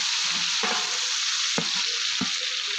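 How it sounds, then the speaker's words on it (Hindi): Onions stirred and fried in a pan for chicken biryani: a dense, steady sizzle up close with a few scraping spoon strokes, no voices. "अब हम इसमें शामिल करेंगे प्याज, अच्छी तरीके से मिक्स करेंगे"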